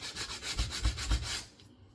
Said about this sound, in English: Use a sanding block, that way you know you've got a nice straight edge that you're going against.